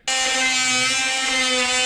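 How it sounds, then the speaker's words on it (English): A Dremel Multimax oscillating tool notches through semi-rigid RV furnace ducting with a sudden start into a steady, loud, high-pitched buzzing whine, close and continuous, with no voices. "I'm just using this Multimax Dremel again to notch through"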